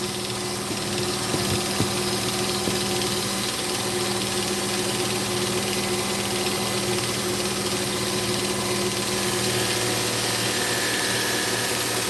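A cardboard buffing wheel works the edge of a knife blade in a custom cutlery shop, making a steady loud motor whir and hum with a faint rubbing hiss, broken by a brief scrape early on.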